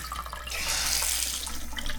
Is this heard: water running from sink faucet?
yes